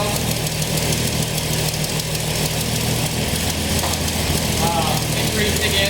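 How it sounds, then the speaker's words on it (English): A Toyota 2F engine with an Aisan carburetor idles at around 700 RPM with a loud, steady, continuous rumble while the idle mixture screw is turned out; no pauses or revving are heard. "Increasing it, watching the idle RPM."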